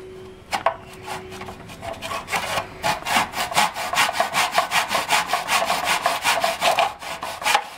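Hand saw cutting wood trim in a small plastic miter box, rapid steady back-and-forth rasping strokes close up, about twenty-five strokes building in pace after a few tentative starts.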